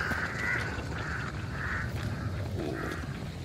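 Crows caw repeatedly in the video game Hunt: Showdown, a series of harsh calls at a moderate distance set over a constant low ambient wash, fairly faint overall.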